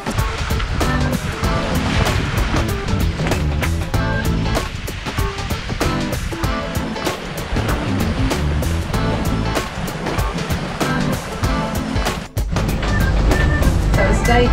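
Ocean waves washing against a sailing boat far out at sea on a long Pacific passage, a continuous loud rush of water and wind with a brief dip near the end.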